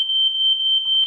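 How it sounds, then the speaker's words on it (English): A smoke alarm sounds a loud, steady, piercing electronic tone at close range, holding continuously with faint voice sounds creeping in near the end. "That's my fire alarm."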